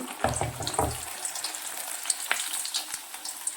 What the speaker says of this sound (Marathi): आणखीन एक पुरी मी तुम्हाला तळून दाखवते अशा प्रकारे तेला सोडायचे आहे